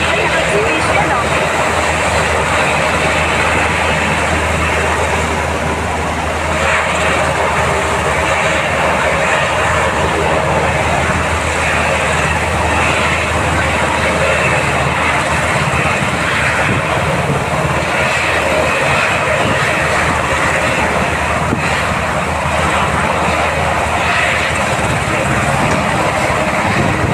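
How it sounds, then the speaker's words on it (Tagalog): Helicopters flying during heavy rain and strong wind produce a loud, continuous engine roar with a steady low drone that holds across the whole stretch, and voices talk over it. "Nandito pa yung mga helicopter."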